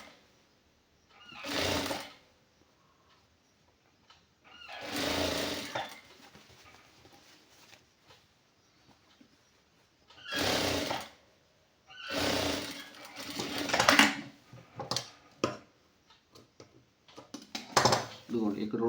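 A sewing machine stitches a khadi silk shirt in several separate short runs, each lasting a second or so, with quiet gaps in between and a busier cluster of stitching near the end.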